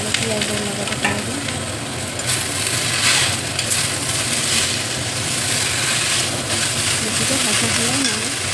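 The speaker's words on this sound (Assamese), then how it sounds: "এতিয়া লাউৰ পাতখিনি ভাজি ল'ব।" Bottle gourd leaves fry with chili, garlic and onion in a pan, giving a loud, continuous sizzle and crackle with stirring, and a voice murmurs faintly underneath.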